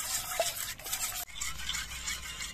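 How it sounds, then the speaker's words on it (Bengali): A spoon stirs a mixture of egg, ginger paste and garlic paste in a bowl, making close, rhythmic scraping and wet swishing strokes with a short pause partway through. "এই দেখুন আমি চামচ দিয়ে নেড়ে নেড়ে সব ভালো করে মিশিয়ে নিয়েছি।"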